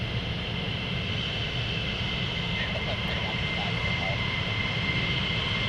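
An F-15 fighter jet at RAF Lakenheath sends a steady, distant engine roar and broad hiss across the airfield, with faint background sounds.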